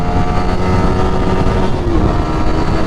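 A Yamaha R15 motorcycle engine runs hard in a street drag race, a loud, steady, close roar with a dense broadband buzz and a slight pitch shift near the end.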